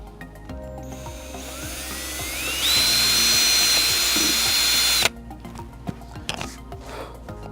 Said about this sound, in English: take this cordless drill with our standard drill bit, no more than 1/8 inch, and drill a pilot hole